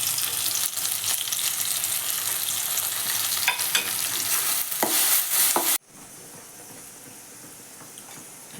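Sajjige, a semolina dish, frying and being stirred in a pan in a village kitchen, a loud continuous sizzle with scraping strokes that drops abruptly to a quieter sizzle partway through.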